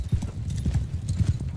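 Horse hooves in Mount and Blade II Bannerlord, a quick, uneven run of thudding clip-clop footfalls close by, with faint background noise and no talk.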